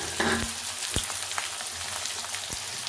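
Ingredients hit hot oil in a kadhai for baingan bharta, giving a bright, continuous sizzle with crackles and a few sharp pops, close and fairly quiet, with no talking.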